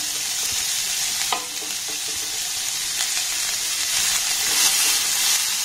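Chopped onions and three green chilies sizzle in hot oil in a pan, a constant hiss with occasional scraping as a spoon stirs them, steady and close throughout.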